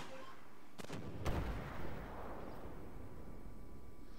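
Missiles launching in a video game, two sharp blasts in quick succession followed by a rushing roar that fades into a steady rumble.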